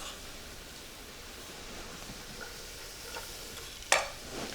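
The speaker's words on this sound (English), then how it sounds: "Just saute it for about a minute." Garlic and leeks sauté in olive oil with a soft, steady sizzle and faint stirring, with one sharp clink of a utensil near the end; no one talks.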